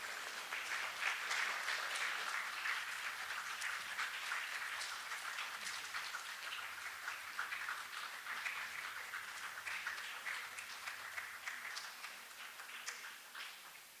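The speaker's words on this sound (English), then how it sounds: "We request you all to give her a huge round of applause" Sustained audience applause fills a graduation ceremony hall as a chief guest is welcomed, steady dense clapping from a large crowd lasting throughout and slowly tapering slightly toward the end.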